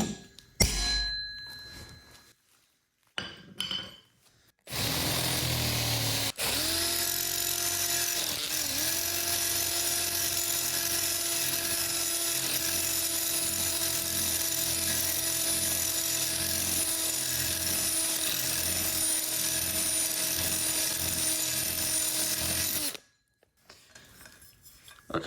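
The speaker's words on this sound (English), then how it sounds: "I'll just hit this with a hammer and then I'll try and drill this out" A power drill whines steadily for a long stretch drilling a hole in metal on a Honda Navi, a loud sustained mechanical drone with slight shifts in pitch, then stops.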